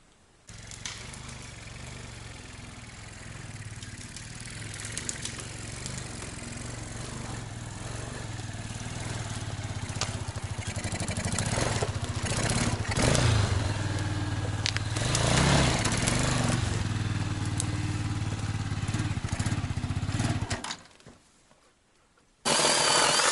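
A loud, steady whine of an electric chainsaw cutting firewood in a forest, echoing, droning continuously for about twenty seconds before cutting off abruptly, with a short restart at the end.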